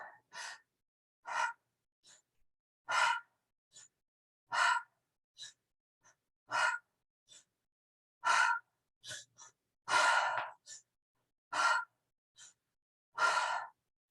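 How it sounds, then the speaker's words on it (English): Rapid breathwork breathing by one person, quick repeated breaths in a steady rhythm through belly and chest followed by exhales, close and clear against near silence. "So it's going to be belly, chest, exhale."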